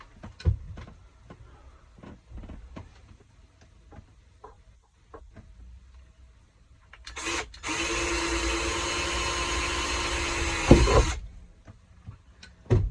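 A power drill whirs steadily for about four seconds, loud and close, after scattered clicks and clanks of handling tools.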